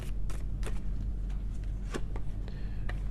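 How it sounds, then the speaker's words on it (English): Tarot cards being shuffled close up, a soft riffling with a few sharper flicks and snaps over a low steady hum, no talking. "These cards are so hard to shuffle."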